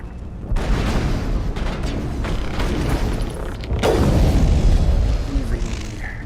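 Sniper rifle fire in the video game Mass Effect 1, heavy booming shots, with one sharp crack standing out midway, set against a dense, continuous rumble of in-game combat noise.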